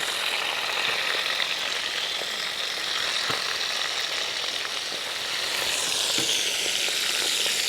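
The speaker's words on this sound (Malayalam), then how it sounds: "ഒരു സൈഡ് നല്ല പോലെ ഫ്രൈ ആയിട്ട് വന്നിട്ടുണ്ട്" Quail fry in oil in a pan with a steady, loud, close sizzle, dotted with occasional small pops and faint clicks throughout.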